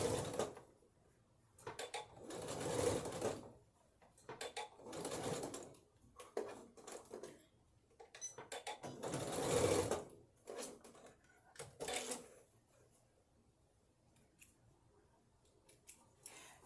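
A sewing machine stitches an apron in short, repeated bursts. Each run of stitching is separated by quiet gaps, and the sound is close but fairly soft.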